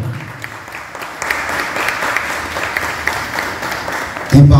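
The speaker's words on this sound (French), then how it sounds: "je vous demande de l'applaudir, pourquoi pas très chaudement" An audience at a debate event at Complexe Total Nathan in Limbé, northern Haiti, applauds warmly as a singer comes up, a steady wash of clapping under a faint voice, ending in a sudden louder burst.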